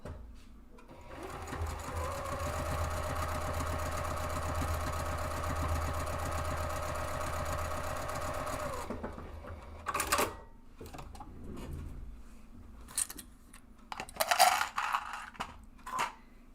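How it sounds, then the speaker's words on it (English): A sewing machine runs a row of stitching down the open edge of a fabric strap for a divided caddy, one steady motor whir lasting about nine seconds, then a few short clicks and handling knocks. "just run a row of stitching down that open edge to finish that strap up"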